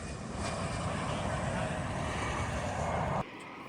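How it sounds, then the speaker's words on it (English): Airplane passing over the plane spotting area at Ronald Reagan Airport, a loud, steady broadband engine roar filling the scene before cutting off abruptly near the end. "we made our way to this really cool plane spotting area here at Ronald Reagan Airport"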